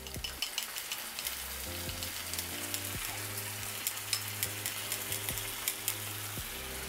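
Sauce hits a hot pan of browning garlic, green onions and chili for spicy garlic noodles, giving a loud steady sizzle with crackling pops and stirring clatter, close and uninterrupted throughout.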